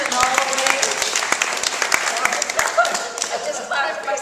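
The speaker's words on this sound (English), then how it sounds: "I just clapped myself, I get so nervous." Audience applause with scattered claps at a film festival Q and A, steady and fairly close, with voices murmuring underneath.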